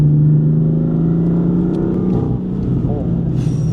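A BMW M4 F82 engine hums with a steady low drone inside the car, pulling gently on a light throttle while people talk over it.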